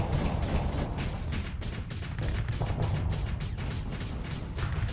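Ship guns and missiles firing in the space combat game Starsector, a dense unbroken barrage of rapid booming shots at loud, steady volume with no talking.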